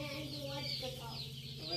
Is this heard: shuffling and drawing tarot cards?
no